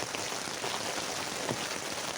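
Heavy rain drums steadily on a hot tent in a downpour with wind, a dense continuous hiss with occasional louder drops, close and even throughout, with no voices.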